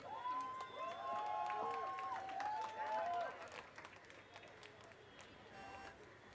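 Audience cheering and clapping for a DJ at a televised singing-show launch, applause and crowd noise running beneath a fading melodic voice, then continuing more thinly.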